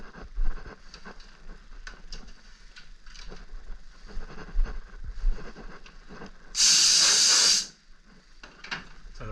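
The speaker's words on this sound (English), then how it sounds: "So to blow the dust off the lid" A single loud burst of compressed air, about a second long, blows dust off the lid of a resin mould, standing out sharply from quieter workshop handling noises before and after.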